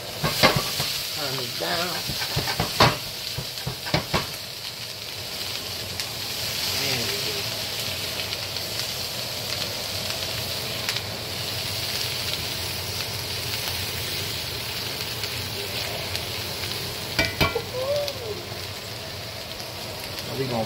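Butter sizzles and crackles steadily in a hot pan alongside blackened chicken breast, a constant close frying hiss with occasional stirring clatter, while a person talks over it.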